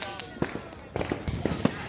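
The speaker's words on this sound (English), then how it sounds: "So much fireworks on 4th of July." Fireworks exploding on the 4th of July, several sharp bangs and crackles in quick succession at moderate distance, with voices nearby.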